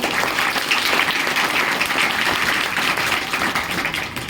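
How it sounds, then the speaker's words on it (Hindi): An audience applauds at a coaching center event, steady dense clapping from many hands that fills the whole stretch. "सर के लिए एक बार जोरदार ताली आप लोग बजाइए।"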